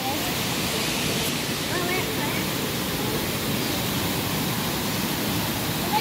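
A swollen river after Storm Julia rushes with a constant, dense roar of churning water, loud and steady throughout.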